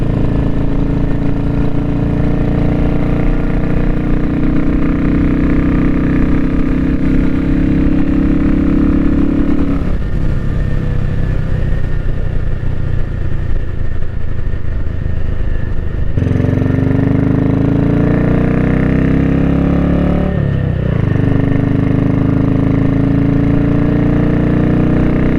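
A 1962 BSA Gold Star motorcycle engine runs loud and close, a steady thumping idle that rises and falls in pitch with a couple of revs, alone without talking.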